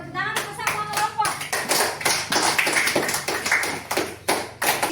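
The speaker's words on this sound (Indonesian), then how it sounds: "Tepuk tangan untuk semua kelompok." Classroom applause for all the student groups, a burst of uneven clapping by children near and loud for about five seconds, with a few stray taps.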